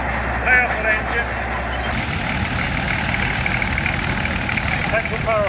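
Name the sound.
old caterpillar tractor engine running at steam rally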